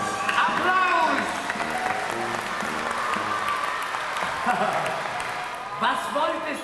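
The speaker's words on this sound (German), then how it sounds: "Applaus!" Circus audience applause in the ring for a clown's entrance, continuous clapping mixed with music or voices and crowd noise throughout.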